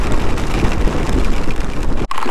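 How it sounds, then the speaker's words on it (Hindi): Heavy rain and rushing noise on a motorcycle ride along a highway, a dense steady roar that fills the whole clip and cuts out briefly near the end. "बारिश इतनी तेज हो रही है"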